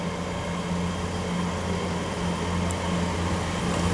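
A Class 800 train moves slowly into the sidings at Oxford station, giving a steady, fairly loud low engine drone and rumble with no change in level.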